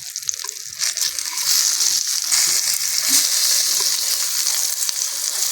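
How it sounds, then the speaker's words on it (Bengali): Eggplant slices for a coriander-and-eggplant curry fry in a pan, giving a steady, close, bright sizzle with soft crackles that holds evenly throughout, with no voices. "বেগুনগুলোর এক পিট ভাজা হয়ে গেছে এ উল্টিয়ে দেবো"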